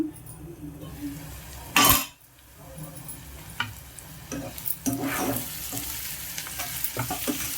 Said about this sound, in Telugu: ఎర్రగడ్డలు ఏగిపోయినాయి చూసేద్దాం